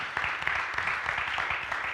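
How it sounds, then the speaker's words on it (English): A church audience claps in applause, a dense, even patter of many hands heard at moderate distance, brief and steady. "Let's give Pastor Kent Boyd a round of applause."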